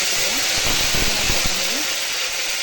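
Cinnamon, cloves and mint hiss loudly in hot oil in a pan, a broad steady sizzle with a few faint knocks and scrapes beneath it.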